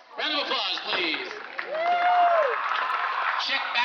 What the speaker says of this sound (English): how about a round of applause for our six victims? Round of applause, please.